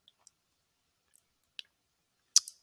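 A few sharp, isolated computer mouse clicks in near silence, small ticks early on and a louder double click near the end, close and dry.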